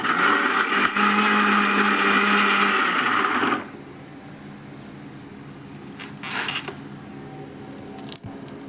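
A blender grinding chutney whirs loudly and steadily for a few seconds, then shuts off, leaving faint clinks and light handling noises.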